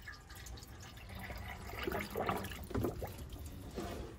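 Water is poured into the radiator of an old British car, an Austin-Healey Sprite, producing faint, irregular trickling and dripping splashes that grow slightly louder midway.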